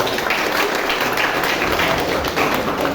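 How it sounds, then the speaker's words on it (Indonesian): A crowd of students claps steadily, a dense continuous patter of applause at an even level throughout. "Tepuk tangan untuk kita semua."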